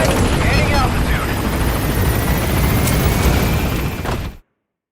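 A helicopter takes off in the Metal Gear Solid V video game, with a loud, steady rotor roar and engine whine close by and a voice speaking over it before the sound cuts off abruptly.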